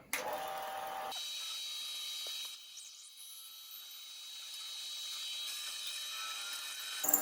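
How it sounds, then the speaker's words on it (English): A 1/4 inch bit drills through a wooden spinning top blank chucked on a lathe, giving a steady whining hum that runs for several seconds after a brief louder start, with a faint click near the end. "I take a 1/4 inch bit and I drill all the way through the entire piece"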